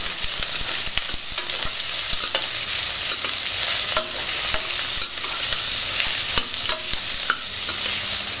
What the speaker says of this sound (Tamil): வெங்காயம் வந்து நல்லா வதக்கணும்.